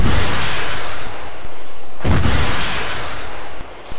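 Heavy artillery fire in the military shooter Arma 3, two deep booming blasts about two seconds apart, each with a broad rumbling tail, loud and close with no talk over them.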